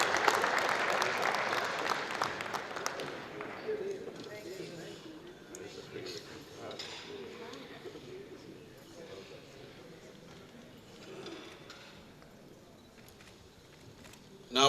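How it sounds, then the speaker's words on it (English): Applause at a public sector audit awards ceremony for an honoree, louder at the start and thinning into a softer, scattered patter, with murmuring voices underneath. "A round of applause for Joshua Mqabongo"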